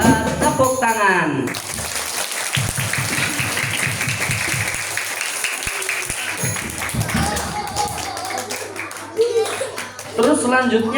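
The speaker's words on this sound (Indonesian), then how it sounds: "Tepuk tangan." Children clap their hands together in a steady, rhythmic burst of applause at a school Maulid Nabi celebration in an elementary school, with voices and talk around and over the clapping.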